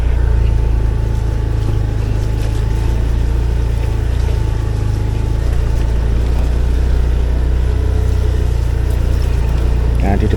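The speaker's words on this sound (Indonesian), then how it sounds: "ini tadi kita naik 4 motor, yang 3 motor adalah motor Matic Beat" Several Honda Beat automatic scooters ride slowly toward Bandi Alit beach, their engines making a steady, continuous motor drone close by throughout, with wind and road rumble mixed in.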